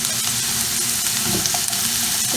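Potatoes fry in a pan with a steady, dense sizzle and crackle that holds close and loud throughout, with occasional light scrapes as they are stirred, no voices over it.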